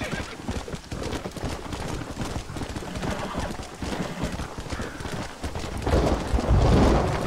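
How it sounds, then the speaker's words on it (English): A horse in the Western video game Red Dead Redemption trots with steady clip-clop hoofbeats under game ambience, and near the end it lets out a loud neigh. "That was a horse."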